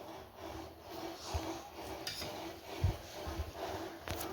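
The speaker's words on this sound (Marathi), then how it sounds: "चीज घालून व्यवस्थित मिक्स करून घ्या" Potato stuffing with cheese mixed in a pan, heard as a steady close rubbing and scraping of the spoon through the thick mixture, with a few soft knocks against the pan.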